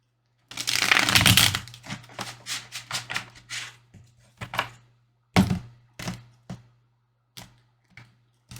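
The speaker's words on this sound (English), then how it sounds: "Trying to make this deck is shuffled" A tarot card deck being shuffled up close: a dense riffling burst, then a run of short, crisp card taps and snaps spaced irregularly, with no talking.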